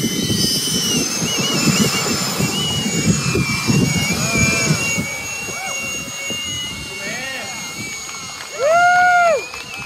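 A scratch-built radio-controlled F-35B model jet flies at a jet rally at Palomar RC Flyers, its turbine giving a steady, loud, high whine with shifting pitch as it passes, while people talk over it nearby.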